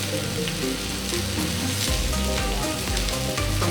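Oil sizzles and crackles steadily in a hot pan, loud and close, with faint stirring scrapes and no voices, as lamb is prepared for braising.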